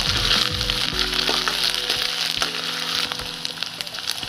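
Onion, ginger and garlic hit hot oil together, setting off a loud, steady sizzle and crackle that fills the whole stretch, with a few clinks of a utensil in the pan.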